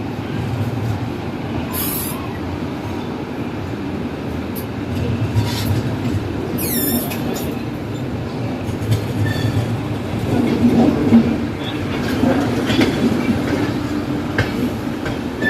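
An Indian Rajdhani train rumbles steadily along the rails with rhythmic clatter and brief high-pitched wheel squeals, heard from on board at constant volume.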